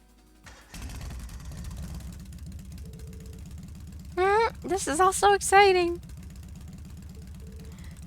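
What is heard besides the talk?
Orbal Bike engine starting up, video game Legend of Heroes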